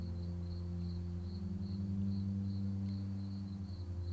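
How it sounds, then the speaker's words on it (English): Crickets chirp at sunset in a steady, rhythmic pulse over a low, constant hum, evenly spaced and moderately close, with no voices. "You listen to the crickets starting to sing as the sun sets"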